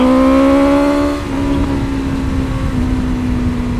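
A BMW M1000R motorcycle accelerates hard under rolled-on throttle, its loud, close engine rising in pitch, with a brief dip around a gear change before it pulls on strongly against steady wind rush.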